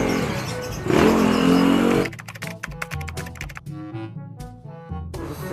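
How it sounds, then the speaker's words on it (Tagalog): A Rusi Korak 110cc motorcycle engine runs with a loud rev burst, then settles into a rapid, uneven putter with sharp ticking pulses, close by and without talk. "Si Sir naman susubok ng motor."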